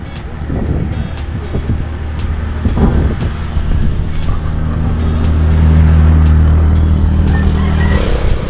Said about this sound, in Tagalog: daming dumadaan na mabibilis na sasakyan dito oh. tsaka mga motor